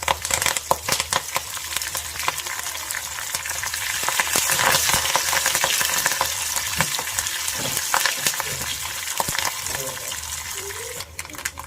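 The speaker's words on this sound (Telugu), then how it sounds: "సో పోపు పెట్టుకోవాలంటే ఫస్ట్ అయితే ఎండుమిర్చి, యాజ్ యూజువల్ కొద్దిగా ఆవాలు, జీలకర్ర, సో చిన్న ఉల్లిపాయ, దీంట్లోనే కరివేపాకు" Dry red chillies, mustard seeds, cumin, chopped onion and curry leaves fry in hot oil as a tempering, a loud, dense crackling sizzle that swells in the middle and keeps going with stirring knocks.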